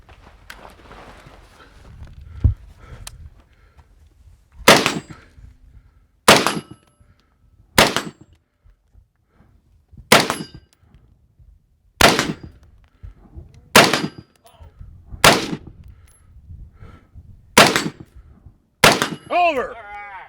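Pistol rounds ring off steel spinner targets at an outdoor multi-gun shooting match, about nine sharp loud cracks spaced a couple of seconds apart, each with a metallic clang and decaying ring, with light footsteps and faint movement between shots.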